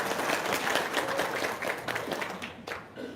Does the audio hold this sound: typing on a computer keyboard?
no